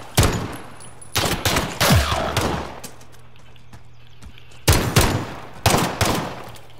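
Repeated bursts of gunfire in Call of Duty: Modern Warfare, loud and close, with sharp volleys that return after a lull, alone and without talk.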